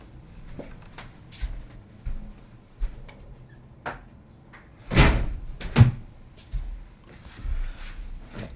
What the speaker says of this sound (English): I got to close this door